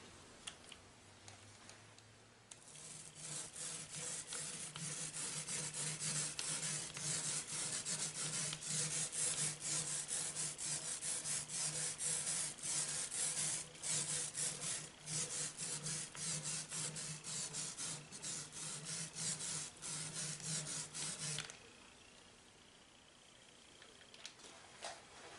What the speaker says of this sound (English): we will use the same foam roller and tray to blend in the touch-up paint